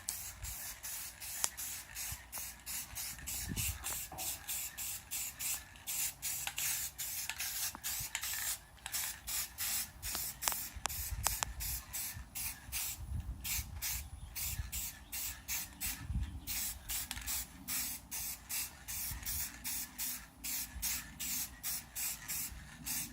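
An aerosol can of Rust-Oleum lens tint coating sprays in repeated short bursts, close hissing puffs with brief gaps between them and no talking.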